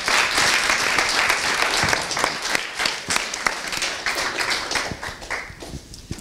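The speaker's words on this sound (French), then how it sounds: "On peut les applaudir." Audience at an award ceremony for a short film competition claps steadily, a dense crowd of hands close by that thins toward the end.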